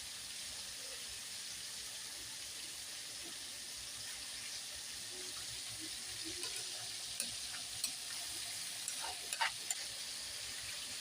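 Garlic sautéing in a pan in a home kitchen, a quiet, continuous sizzle with a few light clinks of utensils toward the end.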